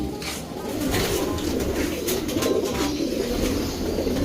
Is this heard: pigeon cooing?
yes